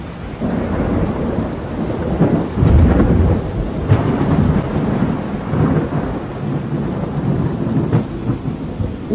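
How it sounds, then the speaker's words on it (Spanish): Rumbling thunder from a storm under a dark sky, low rolling booms swelling and fading over steady rain, loud and continuous with no voices. "pude apreciar grandes tormentas rojizas en ese extraño firmamento oscuro"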